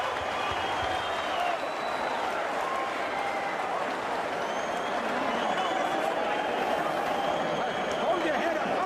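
A boxing arena crowd at a 1998 lightweight bout cheers and claps in a sustained roar, with a commentator's voice running over the noise.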